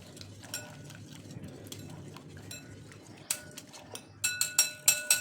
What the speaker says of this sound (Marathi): दह्याला थोडं फेटून घ्यायचे.